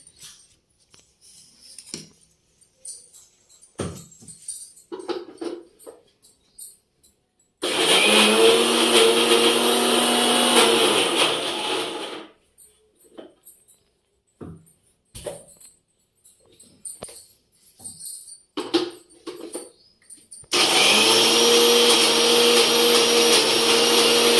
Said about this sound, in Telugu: ఇప్పుడు మిక్సీ మిక్సీ పట్టుకొచ్చుకుందాం కొంచెం